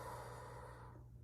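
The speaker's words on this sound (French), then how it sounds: "je t'invite ici maintenant, avant qu'on pige la première carte, à juste respirer" One slow, deep inhalation, soft and airy, fading out toward the end, heard close and quiet with no talking.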